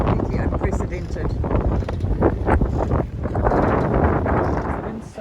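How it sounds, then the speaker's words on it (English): Strong 30-knot wind over a boat anchored in a protected lagoon off Kekova, Turkey, a loud continuous buffeting roar across the microphone, with a voice talking underneath. "The wind started reaching 30 knots."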